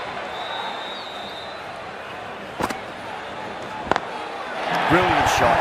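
Bat strikes ball in the Cricket 24 video game during an IPL KKR vs SRH match: two sharp, loud knocks a second apart over steady crowd noise that swells at the end.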